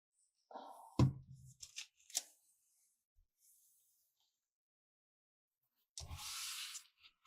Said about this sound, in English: I'm just going to fold these back rather than try and cut them off.